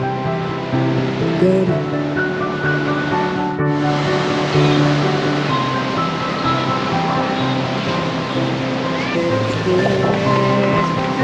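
Ocean surf on an Australian beach forms a steady, broad wash of waves with faint tonal sounds mixed in, heard close and continuous throughout.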